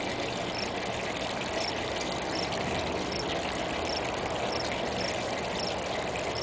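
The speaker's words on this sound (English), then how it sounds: "I'm just going to take this little bottle here and start pouring some of this in." Liquid poured from a small bottle into a flowing sluice box, a steady close trickling wash of running water that continues without a break.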